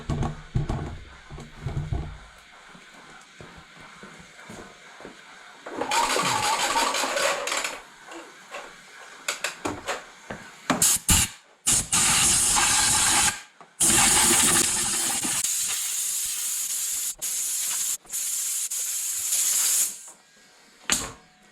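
Compressed air blows out the airbox of a Land Rover Discovery 2 Td5 in loud, irregular bursts of harsh hiss separated by short pauses, close by.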